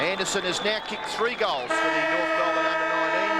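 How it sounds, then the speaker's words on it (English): A long, sustained siren ending the second quarter sounds loudly over the crowd at an under-19s Australian rules football grand final, starting partway through and holding a steady tone while a commentator keeps talking. "that's the siren to end the second term."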